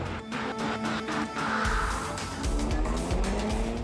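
A Ford Mustang engine drones steadily as the car drives, a loud continuous rumble with shifting pitch, close and unbroken, no talking.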